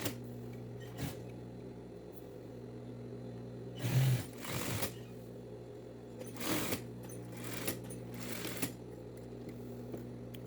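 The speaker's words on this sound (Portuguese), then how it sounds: "Eu vou encostar o pezinho da máquina reta próximo ao overlock e fechar o gancho" A straight-stitch sewing machine closes the crotch seam of women's dress trousers in several short bursts of rapid stitching separated by pauses, over a faint steady hum, with no talking.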